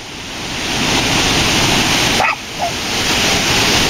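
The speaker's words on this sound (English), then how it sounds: "the dogs are going crazy" A dog barks once or twice, briefly, against the loud steady roar of rushing water.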